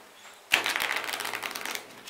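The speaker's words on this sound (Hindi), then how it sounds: "शफल कर लेना है" A deck of playing cards shuffled for a magic trick: a sudden riffle followed by a quick run of soft papery flutters lasting under two seconds, close and alone.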